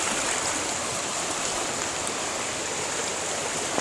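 Flood water rushes continuously through a stream in a forest, a loud, dense, unbroken roar with no voices.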